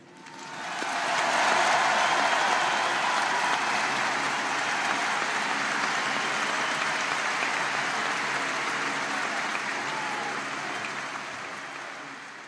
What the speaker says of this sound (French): d'applaudir Monsieur Johnny Hallyday